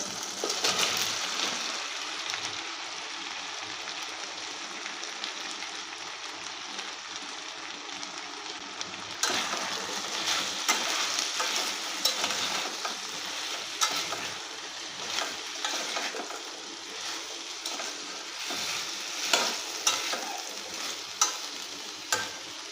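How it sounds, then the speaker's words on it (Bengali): Cut potato and pumpkin frying in a pan for a pumpkin and greens ghonto, with a continuous hiss of sizzling oil and scraping, clattering stirring strokes that grow busier toward the end. "এবারে দিয়ে দেব কেটে রাখা আলু ও কুমড়ো।"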